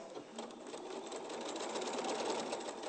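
A domestic sewing machine runs steadily in a fabric sewing studio, its fast, even whirr of stitching continuing close and fairly loud without a break, with no talk over it.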